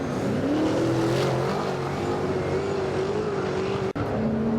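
NZ Super Saloon race cars roar loudly in a continuous engine drone with a steady rising pitch, racing close by; a brief dropout breaks the sound near the end.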